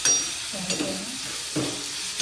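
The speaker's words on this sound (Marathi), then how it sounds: "जरा भाजून घेऊ. चांगली भाजायची लाल होईपर्यंत." Ground tomato and coriander masala paste fries in a pan, a steady broadband sizzle with a few soft scraping stirs, close and continuous, for a Konkan-style cashew curry.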